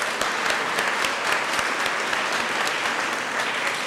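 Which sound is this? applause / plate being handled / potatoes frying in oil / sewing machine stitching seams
applause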